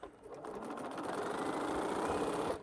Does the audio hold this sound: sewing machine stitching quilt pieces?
yes